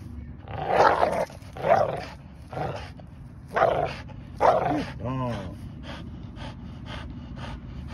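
A dog huffing, growling and letting out gruff barks in loud bursts, heavy panting and snorting between them, close up, while someone talks over it.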